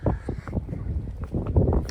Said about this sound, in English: It's a bit windy, so hopefully you can hear us.